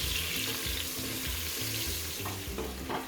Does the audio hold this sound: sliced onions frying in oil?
yes